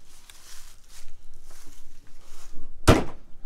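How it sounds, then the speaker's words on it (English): A single sharp slam as a slam-latch baggage door shuts on a 2020 Grand Design Reflection 295RL fifth-wheel trailer, close and loud after a few seconds of quiet outdoor background. "Slam latch baggage doors."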